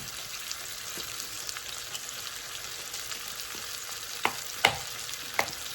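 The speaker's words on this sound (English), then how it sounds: "So let's add some beef broth." Beef broth poured into a hot skillet of hamburger steak, a steady wet frying sizzle with a few sharp louder pops and spatters near the end, close and without talk.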